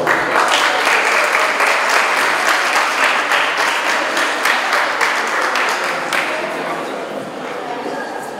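An audience at an autumn painting biennial event at CULagos applauds, a dense, loud burst of clapping from many people that holds steady and then gradually tapers off toward the end.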